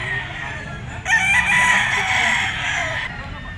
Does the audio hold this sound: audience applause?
no